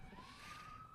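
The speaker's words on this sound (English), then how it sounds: "I'm waiting for that siren to pass by." An emergency vehicle siren wails steadily in the distance, its single rising tone holding through a faint, continuous background hum without voices.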